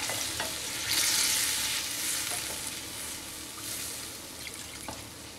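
Water added to a hot pan of potato and egg omelette curry sets off a loud, steady sizzle with stirring scrapes and watery splashes, rising sharply about a second in, then settling into continuous frying hiss.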